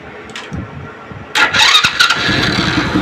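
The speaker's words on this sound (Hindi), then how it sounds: "अब बाइक को हम स्टार्ट करेंगे, सेल्फ लगाएंगे।" A motorcycle fires up on its electric self-starter after a starter repair. A few soft clicks come first, then the engine catches with a loud burst and settles into a steady close running roar.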